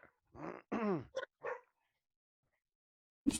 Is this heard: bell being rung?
no